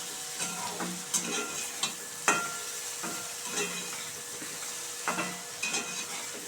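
Moringa leaves and flowers sizzle steadily as they fry in a pan, with a utensil scraping and stirring at irregular intervals, close and clear with no talking.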